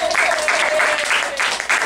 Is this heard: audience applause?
yes